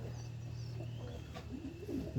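A pet dove at a village home gives a faint, low coo that rises a little toward the end, over a quiet background hum.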